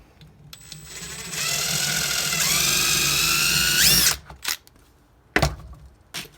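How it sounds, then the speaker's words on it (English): A power drill fitted with a wire brush whirs loudly for a few seconds, its pitch climbing as it speeds up, then cuts off, followed by a few sharp knocks. "So you can take a wire brush and a drill."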